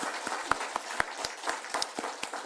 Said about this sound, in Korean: 즐거운 마음으로 한번 같이 박수 한번 칩시다